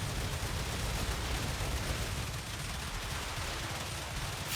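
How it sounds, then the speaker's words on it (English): Automated base-defence turrets firing at enemies in the video game StarRupture, a dense continuous roar of rapid gunfire and blasts, loud and unbroken with no talking. "Let the turrets take care of them."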